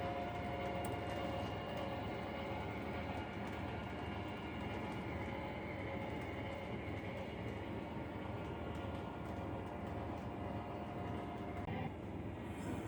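A train reverses along the main line into a siding at moderate distance, a low continuous roll with faint metallic squeals and clicks.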